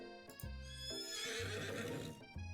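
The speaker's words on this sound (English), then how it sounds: "Colonel Sanders' horse is truly a thing of beauty." A horse in a video game neighs with a bright, drawn-out whinny over a steady clip-clop of hooves, close and clear with no speech.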